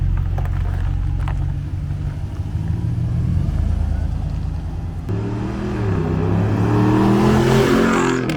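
A Ram Laramie pickup with a modified exhaust revs loudly and steadily, its deep engine drone rising in pitch through a sustained climb in the second half, close to the listener with no talking.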